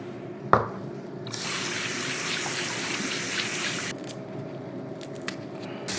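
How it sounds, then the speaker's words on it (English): Fresh basil rinsed under running tap water: a sharp knock, then a steady rushing stream for a few seconds that cuts off into faint drips and small splashes. "The basil is very fresh, so we just have to rinse it out. We'll rinse it out with some salt."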